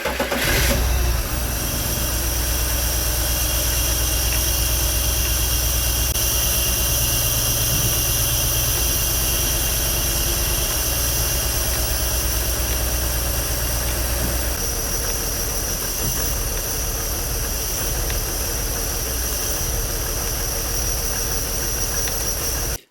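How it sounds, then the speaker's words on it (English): A BMW E46 with its faulty MAF sensor removed cranks and fires, then settles into a loud, steady, slightly rough idle that runs close and continuous throughout. "I'm going to have Jer Bear start up the engine and see if it operates smoother."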